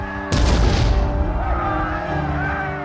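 A single heavy cannon blast erupts suddenly and rolls off into a long rumbling decay, loud and booming, laid over a steady musical background with no voices.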